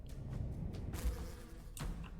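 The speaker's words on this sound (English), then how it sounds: "Distracted by annoying bees." Bees buzz faintly in the fantasy game Solasta: Crown of the Magister, a soft, wavering hum over a quiet background with a dull thump partway through.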